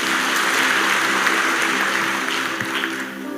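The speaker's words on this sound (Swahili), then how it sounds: "Wapigieni makofi tena" A church congregation at a live Sunday service gives sustained applause, a dense, even wash of many hands clapping that stays loud and steady throughout.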